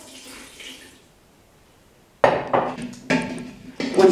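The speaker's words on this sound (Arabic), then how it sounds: "نحط شوية ماء" Water poured into harissa paste in a bowl while preparing a Tunisian chickpea and tomato stew; a quiet lull gives way to three loud splashing bursts close by, each followed by clattering.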